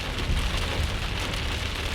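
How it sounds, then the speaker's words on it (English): A heavy rain downpour drums steadily on a car roof and windshield, heard from inside the car as a loud, dense patter with no voices. "that is a freaking downpour."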